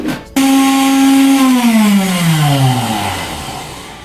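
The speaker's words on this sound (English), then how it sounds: "They are here in the blender. I wanna blend them." A kitchen blender chops two cut onions, its motor starting abruptly with a loud whine that runs steady and then slowly drops in pitch as the blades spin down, alone without talk.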